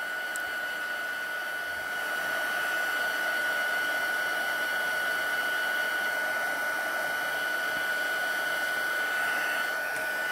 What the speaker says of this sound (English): giving it a little hit with the heat gun just to get it dry